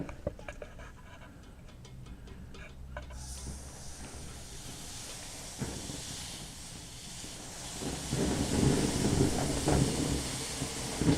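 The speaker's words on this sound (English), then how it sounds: "the sound you're hearing is it hitting my carpet and evaporating" Liquid nitrogen poured onto carpet, boiling off in a loud broadband hiss and sizzle that starts after a few quiet seconds and swells steadily, close up with no talking.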